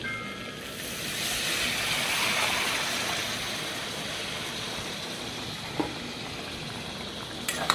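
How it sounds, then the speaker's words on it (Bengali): Hot water added to mutton curry in a pan, producing a broad steady hiss and bubbling rush that swells then settles into a continuous simmering wash, with a couple of small clicks near the end. "এটা কষানোর জল দিয়েছি"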